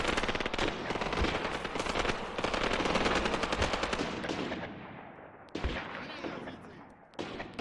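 In the war game Graviteam Tactics, a machine gun fires long rattling bursts with other gunfire mixed in, loud and continuous at first, then easing off before sharper isolated shots break in near the end.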